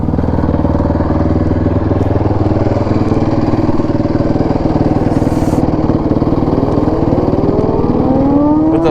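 A Honda 450X dirt bike fitted with flat track wheels and tires revs hard and steadily on a closed course during a wheelie, its loud, close engine note holding constant with some rising pitch toward the end.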